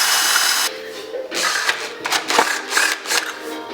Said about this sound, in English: Always oil up your drill bit beforehand, and then you always just let the drill bit do its work.